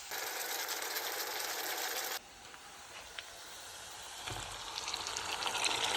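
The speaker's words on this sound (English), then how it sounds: "I really like when the pancetta fries at a high heat because then it becomes crispy" Pancetta fries at high heat on a stovetop, giving a continuous, bright sizzling hiss that drops in level partway through and then builds again.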